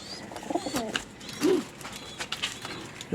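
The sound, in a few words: pigeons cooing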